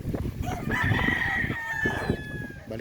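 A gamefowl rooster on a farm crows one long cock-a-doodle-doo, fairly close and clear over a steady outdoor background of other farm noise, with other chickens faintly clucking around it.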